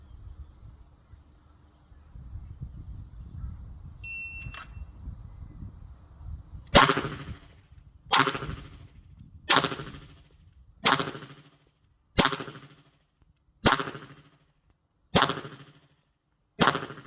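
Eight sharp pistol shots ring out at an even pace, about one and a half seconds apart, during an IPSC shooting warm-up. Each loud crack decays quickly, following a few seconds of quiet handling noise.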